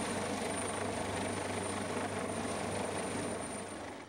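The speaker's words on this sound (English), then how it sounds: "An LA Fire Department helicopter carefully lifted 30-year-old Sonny into the air and back onto his owner's property" A Los Angeles Fire Department helicopter lifts a horse during a rescue in Sunland, its rotor producing a loud, steady, chopping roar with a constant high whine that stays close and even the whole time, no voices heard.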